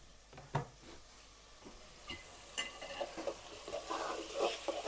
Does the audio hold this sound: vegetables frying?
yes